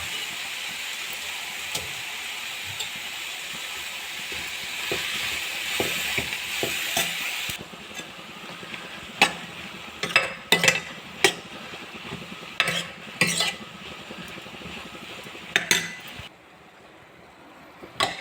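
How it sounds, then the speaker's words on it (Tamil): Chopped brinjal (eggplant) sautéing in a pan for a South Indian brinjal gothsu, a loud steady sizzle through the first half, then quieter frying broken by sharp clinks and scrapes of stirring. "நல்லா வதக்குங்க."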